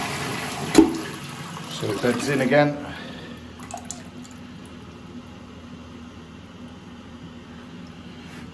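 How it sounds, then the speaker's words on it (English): An old toilet fitted with a Siamp siphon, newly fixed after passing water into the pan, flushes with a loud rush of water, then quietens into the soft, steady trickle of the cistern refilling while someone talks over it. "Give it a flush."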